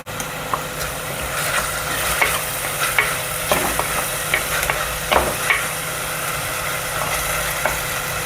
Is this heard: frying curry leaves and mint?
yes